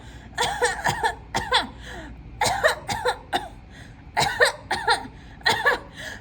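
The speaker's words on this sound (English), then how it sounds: "How long have you had that cough?" Repeated bursts of harsh coughing in uneven clusters, close and fairly loud, with brief pauses between fits.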